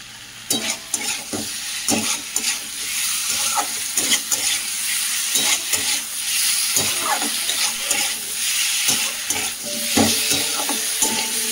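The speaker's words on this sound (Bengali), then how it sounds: "তো আলুগুলো দিয়ে ভালো করে মশলার সাথে কষিয়ে নেব।" Potatoes fry in spiced oil for a katla fish curry with a loud, steady sizzle. Frequent scraping and clanking stirring strokes sound close and loud, with a watery bubbling undertone.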